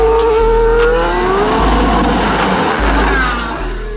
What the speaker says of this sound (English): hopped into a 200-mile-per-hour race car